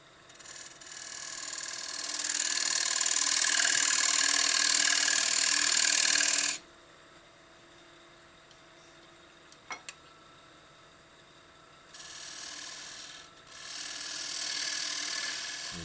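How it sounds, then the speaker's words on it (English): A parting tool cuts into a turned wooden jewelry box on a lathe, a loud rasping scrape for several seconds, then a quiet lull with small clicks, then two more shorter bursts of cutting. "what you will see me do next is I will use the parting tool and cut on the line"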